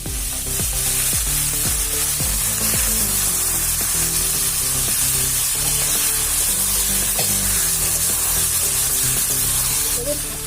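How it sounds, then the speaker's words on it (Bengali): Marinated chicken going into hot mustard oil with cumin, bay leaf and dried chilli, a loud continuous sizzle with steady hiss, but it sits under constant tonal background music that largely masks it. "একটু সর্ষের তেল দিলাম গরম হয়ে গেছে জিরে তেজপাতা শুকনো লঙ্কা ফোড়ন মাখানো মাংসগুলো দিয়ে দিই"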